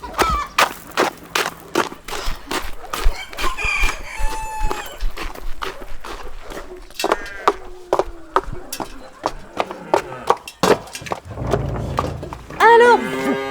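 Chickens cluck and a rooster crows amid farmyard noise at the Château de Rambouillet farm, with rapid repeated calls and occasional lowing from cattle nearby.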